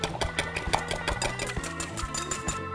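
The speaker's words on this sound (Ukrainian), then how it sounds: "Нам потрібно 4 яйця. і потрібно нам їх збити." Four eggs being beaten for a cherry brownie batter make a dense, motor-like whir with fast rhythmic knocking, steady and close with no pauses.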